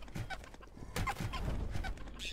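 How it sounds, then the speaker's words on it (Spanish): A strange rooster-like creature in the video game Creativerse clucks in a few short bursts over a low rumbling game background, with a louder run of clucks in the middle of the clip. "Este gallo raro."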